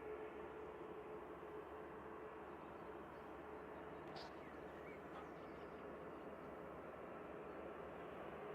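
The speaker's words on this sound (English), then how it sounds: "we've got a Ryanair headed out" Passenger jet taxiing at Manchester Airport, a steady distant engine drone with a broad rumble and a faint whine, heard alone and fairly quiet outdoors.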